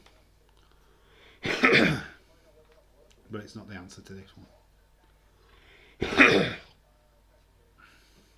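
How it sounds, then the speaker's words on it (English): Phlegmy coughing bursts during a live quiz night stream, two loud harsh coughs a few seconds apart with a throat-clearing rumble between, close to the microphone, with brief speech nearby. "Sorry for the coughing."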